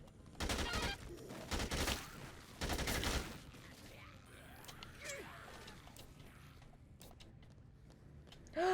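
Gunfire in Dead Rising 2 comes in three short, loud bursts of rapid shots with brief gaps between them. Quieter mechanical clatter and faint voices follow.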